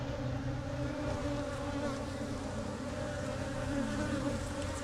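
Honey bees from a healthy colony being built up for almond pollination buzz steadily and densely in an open hive, a close, continuous hum that never lets up.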